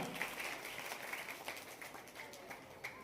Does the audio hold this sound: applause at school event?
yes